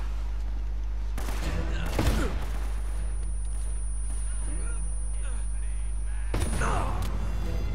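Gunfire in the Uncharted: Drake's Fortune video game cracks out in sharp bursts over a steady low drone, loud and close, with two heavier clusters of shots separated by scattered pops.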